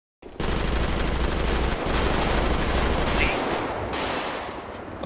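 Sustained automatic gunfire from an active shooter in GTA 5 roleplay, a loud continuous rattle of rapid shots that runs almost the whole clip with little letup.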